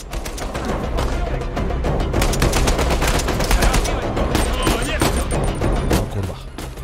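Gunfire in the video game Uncharted rattles in dense, rapid bursts of overlapping shots that keep up loudly for the whole stretch with hardly a pause.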